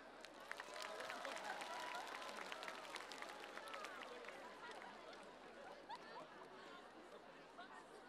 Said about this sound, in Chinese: 让我们以热烈的掌声欢迎他们